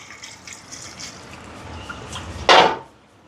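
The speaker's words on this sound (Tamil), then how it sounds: "இது அவிகிறதுக்கு தேவையான அளவுக்கு தண்ணி சேர்ப்போம்." Water splashes into a cooking pot of ridge gourd for a milk curry in one short, fairly loud pour near the end, after quiet kitchen rustling.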